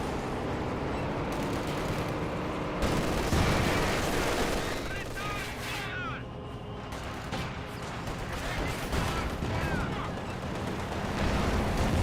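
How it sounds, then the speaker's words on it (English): Maxim machine gun firing in Company of Heroes 2 amid a dense battle, with continuous rattling bursts layered over other gunfire and explosions, loud and unbroken throughout. "Maxim firing away, suppressing down some of these Panzer Grenadiers"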